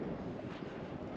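Breeze buffets an open microphone on a sunny day at a park-up spot, making a steady low rumble of wind noise with no talking.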